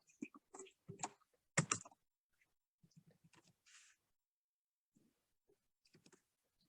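Bursts of computer keyboard typing while entering a password-style code on an online job application, clustered keystroke runs separated by pauses, close and fairly quiet, with no talking.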